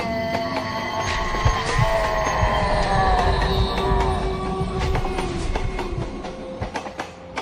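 Train running steadily on rails with a continuous rumbling clatter and faint squealing metallic tones, loud and sustained throughout, no talking.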